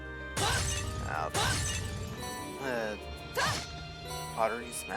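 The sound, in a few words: pottery smashing in the video game Trails of Cold Steel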